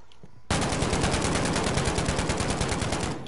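Rapid automatic gunfire from an Oden rifle in a video game, a loud, dense burst of fast shots that starts abruptly and carries on steadily to the end, with no talk over it.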